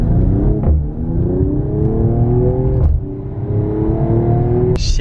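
A 2020 Mercedes-Benz CLS 53 AMG's exhaust roars loudly and up close as the car accelerates hard, the engine note climbing in pitch and dropping briefly at two gear changes before a sharp burst near the end.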